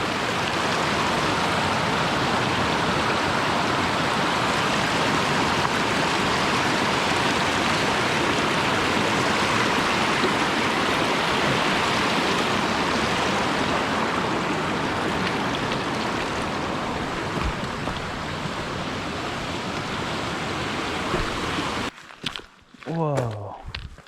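Rushing water of a mountain stream near Greider Lakes flows in a loud, constant wash, ending abruptly with brief sounds near the close.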